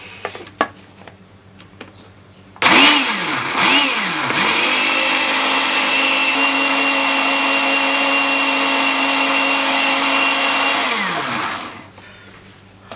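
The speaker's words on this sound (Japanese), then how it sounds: "これミキサーにかけます。" A blender mixing a honey peach milkshake starts abruptly, whirs up to a steady loud high-pitched whine, runs for several seconds, then winds down and stops.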